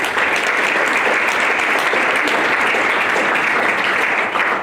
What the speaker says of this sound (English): let's give all them a round of applause